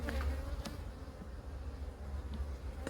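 Honeybees buzz at low volume beneath the queen excluder of an opened hive, a continuous, soft drone with a few faint knocks.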